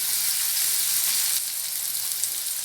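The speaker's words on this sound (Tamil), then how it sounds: "வெங்காயம் ஓரளவுக்கு வதங்கி வரட்டும்." Finely chopped onion sautés in a pan with fennel seeds, giving a steady, close sizzle and hiss that holds at even loudness throughout.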